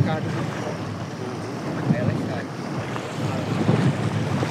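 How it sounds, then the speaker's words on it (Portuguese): Strong wind on the Arapiuns River in the Amazon rumbles and buffets the microphone over the wash of choppy water, a constant loud roar that surges in gusts. "Olha, e o vento tá forte, viu, pessoal? O vento tá muito forte."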